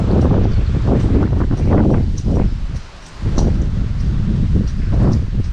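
Strong wind on an elevated sky plaza in San Nicolas, Pangasinan roars loudly and steadily into the microphone, with gusty buffeting and rustling that eases briefly midway before surging back.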